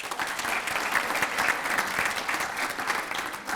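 An audience claps at an Arlington ISD Teacher of the Year banquet, a moderately distant, even wash of applause from a sizable room that continues without pause.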